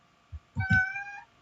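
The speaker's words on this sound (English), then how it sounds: "Kitty needs some loving." A house cat gives a short soft chirp, then a louder drawn-out meow, close and alone in a quiet room.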